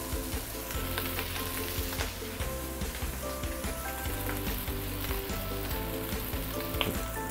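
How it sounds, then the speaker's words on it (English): Hokkien prawn noodles fry hard in a wok, a dense steady sizzle with a constant hiss and crackle, close and even throughout, with no speech. "you want to let your noodles to have a good contact on the surface against the wok like this"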